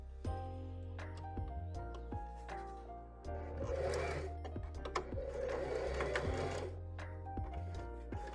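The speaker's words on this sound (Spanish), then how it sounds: "Ahora el elástico lo vamos a doblar hacia adentro y le vamos a pasar una costura recta" A sewing machine runs a straight seam along folded-in elastic on a top's back edge. It gives a steady, close mechanical whir with rapid stitching ticks, briefly slowing or pausing a few times.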